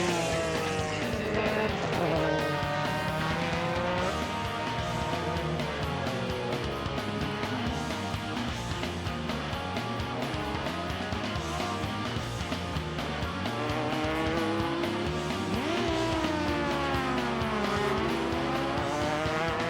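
JGTC 2000 race cars at speed, including the Castrol Mugen NSX locking its tyres at the first corner, with engines rising and falling as cars pass, a brief tyre squeal, and continuous loud racing noise.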